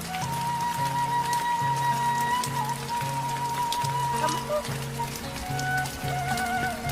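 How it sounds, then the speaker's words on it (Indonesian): Village rain easing off, a steady dense patter on surfaces filling the background while a repeating tonal hum or music pulses underneath and people talk faintly. "Hujannya mulai kecil bang ya."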